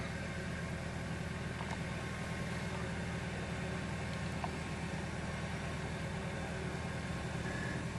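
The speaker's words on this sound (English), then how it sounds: "Let's have a look where the tractor turns." A tractor pulling a vineyard sprayer in a vineyard, a faint steady engine drone with low rumble and constant broadband hiss, no clear changes over the whole stretch.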